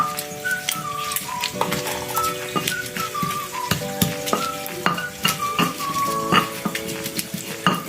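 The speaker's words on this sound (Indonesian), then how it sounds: "ini akan bikin sambalnya yang tadi sudah digoreng akan kita ulek" Fried sambal chili paste is ground by hand in a mortar with a pestle (ulekan). Steady scraping and knocking strokes keep an irregular rhythm, close and fairly loud, with scattered clinks and a faint tonal hum underneath.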